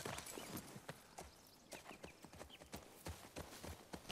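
Horse hooves clip-clopping in The Last of Us Part II, a quiet, fairly quick run of irregular hoofbeats at moderate distance, heard alone without talk.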